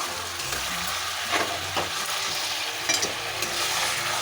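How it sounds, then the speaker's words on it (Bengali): Chicken frying in a pan with salt, being stirred: a soft continuous sizzle broken by a few scraping stirs, fairly quiet and close, with no voices. "এবার এটাকে নাড়বে।"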